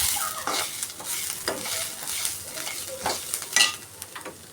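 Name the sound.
spices lightly frying in a pan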